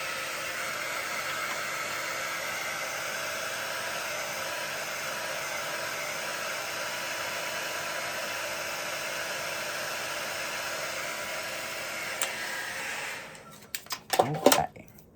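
A steady, loud whoosh of a dryer blowing over acrylic paint runs for about thirteen seconds, then cuts off, followed by a few small clicks and handling knocks.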